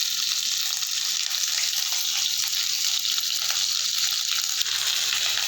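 Ingredients with salt sauté in a pan for a bitter gourd kuzhambu, a steady close hiss and sizzle that runs throughout.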